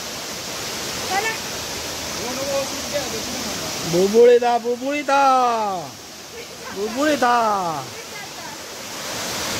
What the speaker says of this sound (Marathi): मस्त धबधबा, छान हा.